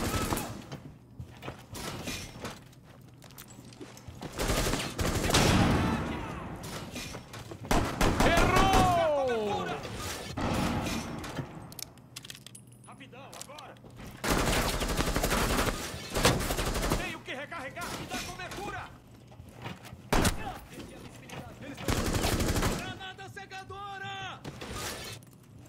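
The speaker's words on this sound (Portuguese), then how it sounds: "Estão atirando de lado também." Pistol gunfire in a realistic-mode first-person shooter game on hard difficulty, heard as loud, close bursts of shots and impacts spread across the clip, with someone talking over the action between volleys.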